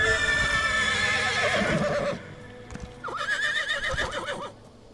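A horse in a video game whinnies twice in long, loud, shaky calls with a short gap between them, with faint hoof clatter underneath.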